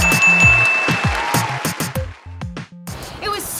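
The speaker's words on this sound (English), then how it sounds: "Everybody clap your hands!" Children's-programme audience clapping hands together in a few loose bursts, fairly close and lively, with a tonal whistle-like sound at the start and a short electronic fluttering effect near the end.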